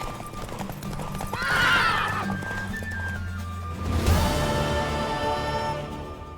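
A horse in The Witcher 3 video game whinnies loudly with a rising, shaky call, then a second neigh follows over steady hoof clip-clops and a low musical drone.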